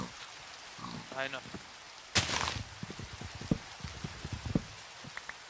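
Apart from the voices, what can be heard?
rain in Minecraft video game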